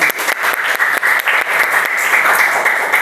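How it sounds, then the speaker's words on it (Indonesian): A seated group bursts into loud, close applause for the second group's presentation at a religious study gathering: brisk overlapping claps that hold strong for a few seconds without any voices. "beli tepuk tangan buat kelompok 2"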